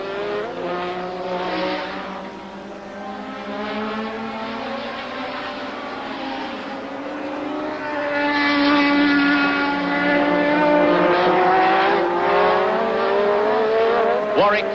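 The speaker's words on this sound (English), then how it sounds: "the Ligier with its Renault engine, the Ferrari with its V6 turbo Ferrari engine, and the Renault-powered, of course, Renault of Warwick go round Druids Hill Bend together" 1984 Formula 1 cars with Renault and Ferrari V6 turbo engines scream through a bend at the British Grand Prix, overlapping engine notes rising and falling as several cars pass close together, loud and continuous with a commentator talking over them.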